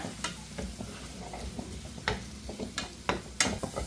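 Fish roe and onion sauté in a pan with a steady frying sizzle, punctuated by sharp, irregular clicks and scrapes of a spoon stirring against the metal, close and moderately quiet.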